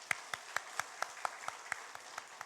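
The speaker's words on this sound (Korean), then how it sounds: "격려의 박수 한번 할까요?" A church congregation claps in encouragement for the children on Children's Sunday, a quiet, slow and evenly paced run of about a dozen distinct claps, as if from a few hands in unison.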